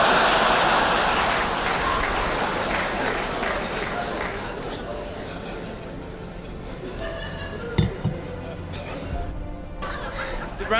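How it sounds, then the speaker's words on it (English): Audience applause at a comedy show, a dense wash of clapping that starts loud and gradually thins out, with a few sharp knocks near the end. "Round of applause."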